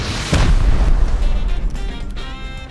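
Rocket blasts in a survival game raid on an excavator base, a sharp loud burst near the start followed by rolling booms and rumbling explosion debris, with a muffled blast around the middle.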